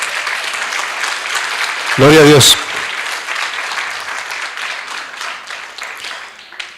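Church congregation applauding during a Spanish-language sermon, steady clapping throughout with a brief sung or shouted voice and speech rising over it.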